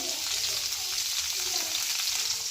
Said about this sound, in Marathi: आपण कांदा भाजून घेणार आहोत।